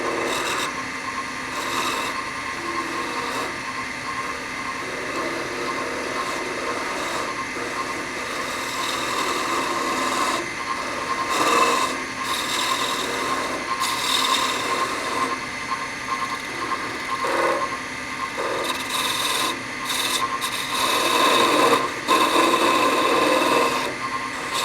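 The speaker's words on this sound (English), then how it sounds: "I'm going to switch back to one of my spindle gouges and just really start to go to town on getting these dropped back down." Spindle gouge cutting a spinning wooden honey dipper blank on a lathe, making a steady rasping scrape that swells and eases with each pass, continuous throughout with no talk.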